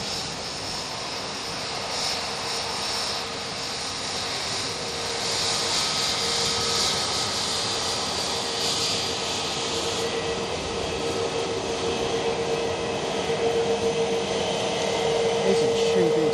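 An Airbus A321neo jet at Bristol Airport produces a sustained, loud engine roar and whine that grows slightly stronger over time, heard outdoors at close range with no one speaking.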